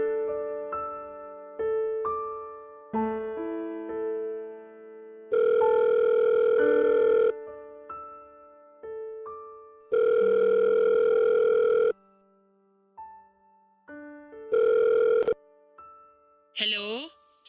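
A telephone plays a melodic tone sequence and then rings in long buzzing bursts while a caller tries to reach their children, with tonal beeps between the rings and a short chirp at the end.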